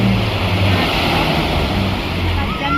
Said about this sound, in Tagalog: mataas talaga yung alon